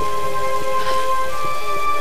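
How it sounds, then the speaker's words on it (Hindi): Steady rain patters and hisses across an Iceland setting in the Tomb Raider video game on Android, a constant even wash with no voices. "अभी बारिश हो रहा"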